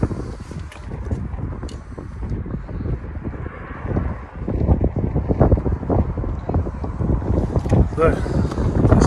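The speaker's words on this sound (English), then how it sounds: "It's a lot windier than this end." Strong gusty wind buffets the microphone at a flooded riverside quay on the River Waveney at Beccles, a loud rumbling roar that swells and dips throughout.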